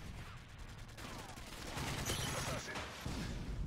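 Rapid bursts of gunfire from a modern military shooter game, loud and dense over roughly four seconds, with a thick low rumble and crackling layers of shots throughout.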